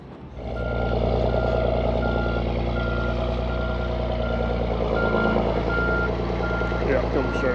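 A dump truck backs up on a mountain road, its reversing alarm beeping at a steady regular pace over the deep rumble of an idling diesel engine, close and continuous.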